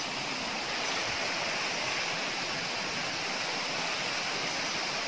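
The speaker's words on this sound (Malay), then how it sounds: "di belakang tu air terjun" A waterfall in a forest area along an old mountain road at night, roaring as a steady, dense broadband rush of falling water that fills the whole clip without a break.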